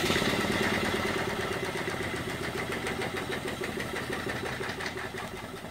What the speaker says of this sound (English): I'll run the engine.